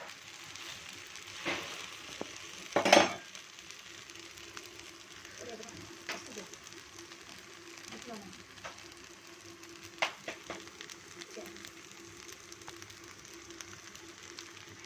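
An onion uttapam cooks on a pan with a soft, steady sizzle, broken early by a sharp clatter of a utensil and a few lighter taps later.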